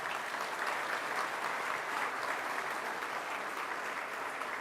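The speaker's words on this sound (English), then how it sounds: "let's give him another round of applause" Another round of applause rises from the audience at the opening of the Nappi Wellness Institute in Syracuse, a steady, moderately distant roar of many hands clapping that continues evenly throughout.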